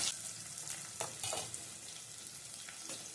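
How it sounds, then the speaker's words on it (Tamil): Crushed garlic sautés in oil for a spicy kara podi fish curry, a soft, fairly quiet sizzle broken by a few brief stirring scrapes, with no one speaking. "இருக்கிற பூண்டு வதங்கினோம்னா நம்ம வெங்காயம் சேர்க்கணும் பூண்டு நல்லா வதங்கட்டும்"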